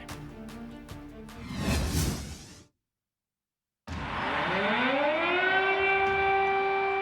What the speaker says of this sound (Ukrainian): В місті оголошено повітряну тривогу